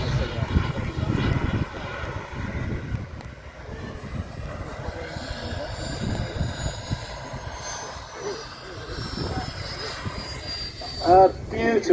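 A model airplane flies aerobatics with rapid rolls, its engine droning steadily throughout, rising and falling as it passes, with a louder surge near the end; voices talk faintly over it.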